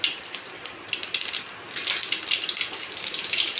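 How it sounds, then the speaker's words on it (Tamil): Mustard seeds spluttering in hot oil in a pan, a close burst of crackling pops and sizzles that grows denser and busier, with no one talking. "கடுகு நல்லா பொரியுது"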